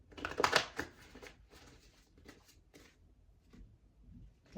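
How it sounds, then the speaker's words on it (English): A deck of tarot cards being shuffled by hand, a dense burst of riffling flutter up close at the start, then quieter scattered card slides and taps trailing off. "Y'all heard me shuffling."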